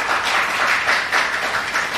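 Studio audience at a televised singing contest applauds a contestant with steady, dense clapping that swells and eases in waves for the whole two seconds.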